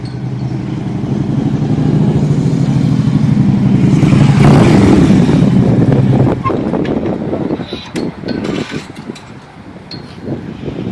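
A motorcycle with aftermarket CFR exhaust pipes revs loudly and close, a sustained deep engine roar that rises, holds, then tapers off, with some wind noise.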